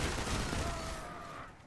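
A heavy machine gun in the Destiny shooter fires a rapid, dense burst of shots, loud and close, fading out over under two seconds.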